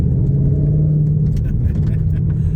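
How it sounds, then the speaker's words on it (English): A Ford Mustang GT500 with active exhaust, out back-roading on dirt, gives a steady, loud, close engine and exhaust rumble that barely changes throughout. "This Mustang's a lot of fun. It's got the active exhaust and the rev matching"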